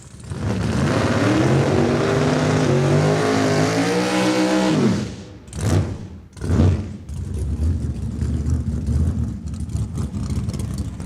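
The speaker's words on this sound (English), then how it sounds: "Watson, the 66 Chevelle, making its way down on a test pass." A 1966 Chevelle drag car makes a test pass at Saskatchewan International Raceway, its engine roaring loud and steady as it pulls hard, then cutting off abruptly around the shift points before resuming a lower rumbling idle and drive-off.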